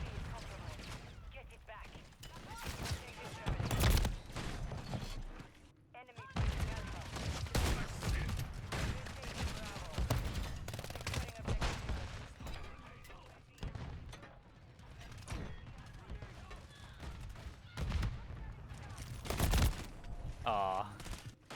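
Rapid pump-action shotgun blasts in the horror co-op game Lethal Company, loud repeated sharp bursts scattered throughout amid other gunfire, with people talking over the action.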